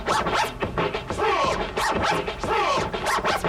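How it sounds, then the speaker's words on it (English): Vinyl scratching in quick back-and-forth strokes, each push followed by a broken two-part pullback, repeated rhythmically and loud with no talking. "you rewind it back in 2 strokes"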